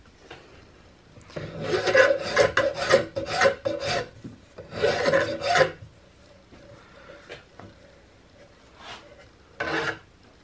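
A hand file rasps across the wooden stock of a CVA Hawken rifle in a run of quick, close back-and-forth strokes, followed by a pause and one last short stroke.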